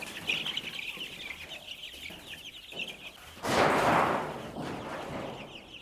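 Young chicks cheep in a busy, continuous chorus as they are let into a poultry shed, with a loud rustling scrape midway as a metal sheet slides.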